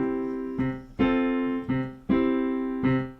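Piano gospel vamp on Amazing Grace, chords struck in a bouncing syncopated rhythm with the left hand hitting a bass note, five or six clear attacks that ring and decay, played solo.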